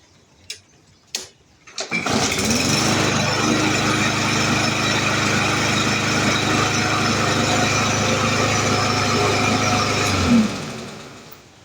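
Troy-Bilt TB110 lawn mower with a 140cc engine, freshly tuned up, starts after a couple of short pull-cord tugs and runs at a steady, loud, close drone for about eight seconds before cutting off, with no talk.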